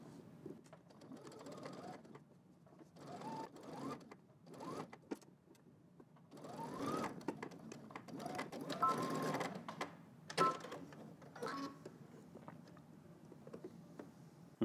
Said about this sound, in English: Okay, so now we're just gonna stitch right down the edge.